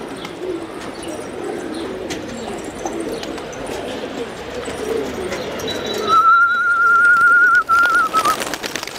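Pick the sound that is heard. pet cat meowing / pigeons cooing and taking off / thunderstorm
pigeons cooing and taking off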